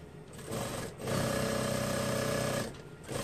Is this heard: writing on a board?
no